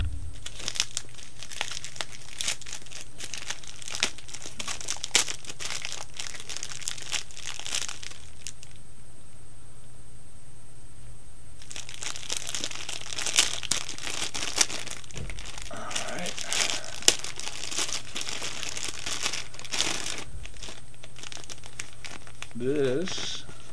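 A tightly taped tobacco package gets torn and crinkled open at close range, with ongoing crumpling and ripping of tape and wrapping; someone speaks intermittently throughout.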